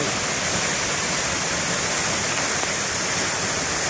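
Steady, dense roar of water falling at Channat waterfall near Mangaon, loud and close, broadband and unbroken throughout with no other sounds standing out.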